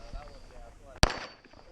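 A single sharp, loud gunshot from a pistol or rifle at a two-gun action shooting challenge cracks close by, following a faint voice and quiet background, then decays quickly.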